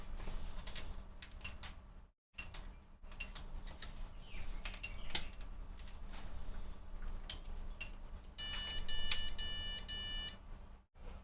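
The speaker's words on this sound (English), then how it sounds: "Four beeps." An ASRock B85M Pro4 motherboard with bad RAM gives a POST beep code after powering on: loud, clear electronic beeps over faint fan hum and clicks, with no speech.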